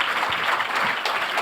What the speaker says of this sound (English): Give all the panelists a round of applause for taking time out of their Wednesday night to be here tonight.